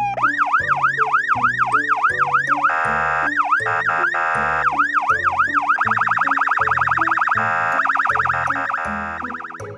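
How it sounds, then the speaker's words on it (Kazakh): A police car siren wails loud and close in repeated rising and falling sweeps, breaking briefly before switching to a faster, rapid warble, with no voices present. "Ал бұл полиция көлігі."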